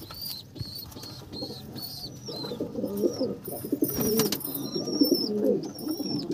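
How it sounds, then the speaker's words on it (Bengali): Male Andhra breed pigeons coo softly in a loft, their low repeated calls mixing with higher chirps from other birds nearby, steady and moderately close throughout. "এইটা পায়রা হচ্ছে আন্ধ্রা নর"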